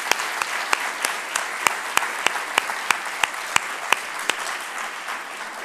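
An audience at a Georgetown business school conference applauds entrepreneurs after their presentations, a steady wash of clapping with a few sharp, distinct claps standing out near the recorder.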